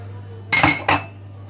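Utensil scraping and clinking against a pot while stirring sugar for a three-layer cake batter, two short close bursts over a steady low hum.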